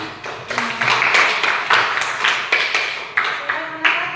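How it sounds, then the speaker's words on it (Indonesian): An audience claps steadily for several seconds, a dense, loud patter of hands with a few sharper individual claps standing out near the end. "semua berikan aplaus buat"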